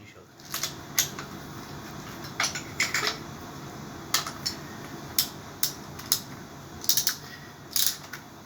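Metallic clinks and taps come one after another at irregular intervals as cylinder head bolts are removed from a Torino seven-main-bearing engine, with tools and loose bolts rattling close by over a quiet background.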